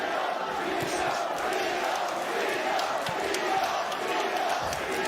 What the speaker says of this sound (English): The crowd is loving what they are seeing out of Brooklyn's Teofimo Lopez.